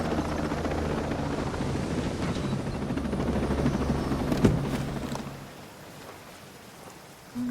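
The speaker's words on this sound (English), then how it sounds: "Starting up a helicopter is much faster." A helicopter starts up in the video game Tom Clancy's Ghost Recon Breakpoint, engine whining and thrumming with a rapid chopping rotor texture, loud and steady before easing down toward the end.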